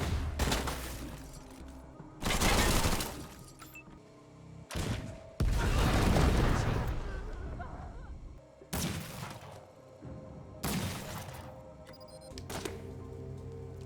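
Gunfire in the video game Wasteland 3 comes as several loud, separate bursts of shots and impacts spread through the stretch. Quieter game sounds fill the gaps between them.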